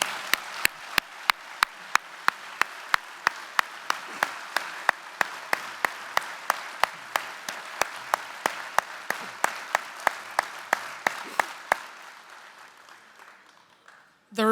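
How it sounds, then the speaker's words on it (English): Audience applause for new Corvette Hall of Fame inductees at an induction ceremony, a sustained crowd clapping with sharp regular claps standing out near the microphone, fading toward the end. "Let's give these newest Corvette Hall of Fame members one more round of applause."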